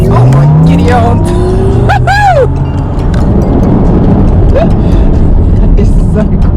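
MG Cyberster electric sports car launching hard under launch control, a loud, continuous surge of motor whine and road roar with rising tonal sweeps, while people exclaim over it.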